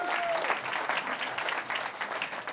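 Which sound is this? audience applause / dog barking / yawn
audience applause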